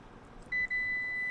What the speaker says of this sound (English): Listen for the beeps and step back out of the way so that the door has room to operate.